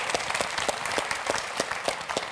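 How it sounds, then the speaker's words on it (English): Enthusiastic applause from an audience, many hands clapping steadily for a couple of seconds with no talking. "Big round of applause for these"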